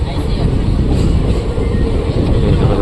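Veraval–Bhavnagar passenger train at Kukavav railway station, a steady loud low rumble of rail cars running without a break through the whole stretch.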